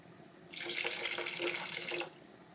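Tap water runs steadily into a pot of rice while Saudi kabsa is being cooked, a close, even splashing stream that starts abruptly and stops after about a second and a half.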